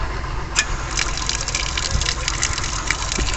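Water streaming from pipes along a row in the Ain Dhehiba park in El Hajeb, Morocco, a steady close gush and splash with faint clicks, no voices.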